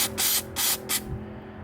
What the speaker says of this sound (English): Let's see what it looks like when we spray it.